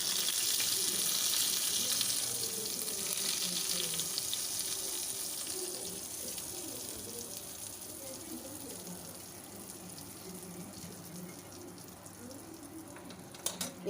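Hot cumin tempering (bhagar) is poured over dahi phulki, a steady hissing sizzle that starts strong and slowly fades over several seconds.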